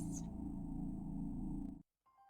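A cat's purr in a video game, a steady, low rumbling loop for just under two seconds, then cutting off abruptly into near silence.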